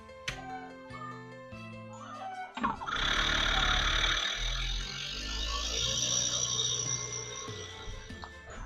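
A HarvestRight freeze dryer's vacuum pump, a Premier pump on a medium unit, switches on and runs briefly to warm its oil, giving a loud, steady broadband roar with a low hum after some quieter clicks and handling noises at the start.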